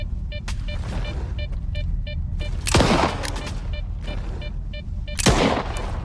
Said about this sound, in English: I'm gonna shoot at it.